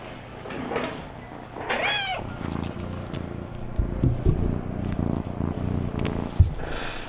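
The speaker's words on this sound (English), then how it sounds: "She's purring, bro!" A pet cat purrs close to the microphone, a steady low rumbling purr running through the whole stretch, with a brief meow-like call early on and a few soft bumps.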